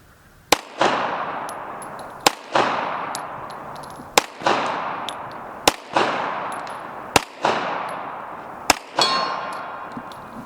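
Custom-built 1911 pistols fire about half a dozen sharp, loud shots at steady intervals of roughly a second and a half, each crack followed by a ringing clang and a fading echo outdoors.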